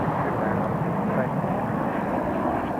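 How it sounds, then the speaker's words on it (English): A WestJet Boeing 737-700 arriving from Calgary on short final approach at Toronto Pearson, heard as a steady broad engine roar at moderate distance, with no clear change over a few seconds. "737-700 WestJet 660 from Calgary."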